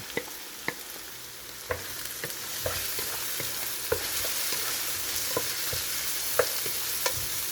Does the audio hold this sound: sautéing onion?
yes